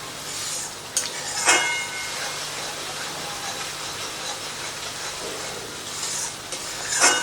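Masala with cashews stirred continuously in a pan, giving a steady soft scraping and sizzling hiss with a few sharper clinks of the spoon against the metal, heard up close with no talking.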